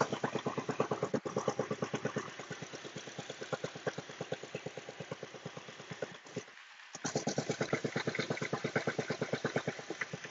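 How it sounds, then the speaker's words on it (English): A 2011 Subaru Legacy Outback engine idles with exhaust leaks, a fast steady ticking puff pattern heard up close, briefly dipping out midway before resuming at the same even rhythm. "Motor runs fine, has its most exhaust leaks."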